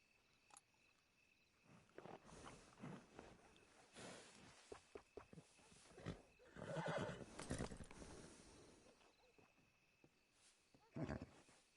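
Horse in the video game Red Dead Redemption 2 neighing and snorting at a groomer's stable, with hoof clip-clops and shuffling in between; quiet bursts across several seconds.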